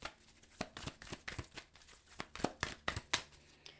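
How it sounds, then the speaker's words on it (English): Tarot cards shuffled by hand in a rapid series of crisp riffles and flicks, close and fairly quiet, with no talking. "let's get shuffling"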